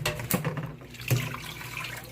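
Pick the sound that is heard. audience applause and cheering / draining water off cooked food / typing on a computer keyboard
draining water off cooked food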